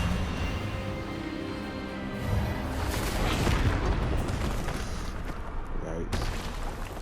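The Expelliarmus spell in Hogwarts Legacy fires with a booming, crackling magical blast during a duel, loud and rumbling for several seconds, with a voice talking over it.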